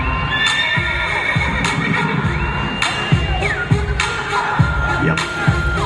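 At a rodeo-style cattle-working competition, a horse whinnies over a loud, continuous crowd roar, with a few drawn-out calls rising above the noise through the few seconds.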